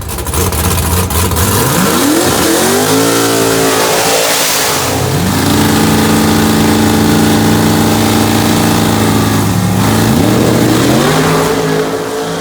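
A big-tire drag racing car roars loud and close, its engine revving and climbing through rising shifts, easing back, then surging and climbing again, with no talk over the engine.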